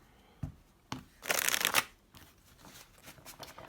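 A deck of tarot cards is tapped a couple of times, then riffled in a loud, close burst, followed by quieter sliding and shuffling of the cards.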